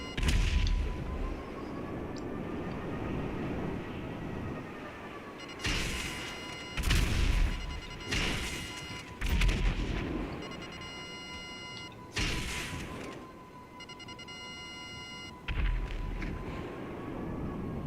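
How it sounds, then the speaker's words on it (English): In GTA 5 Online, missile explosions and gunfire erupt as a string of heavy booms and crashing blasts in uneven bursts over a constant droning engine hum, with no speech. "Worst missiles ever."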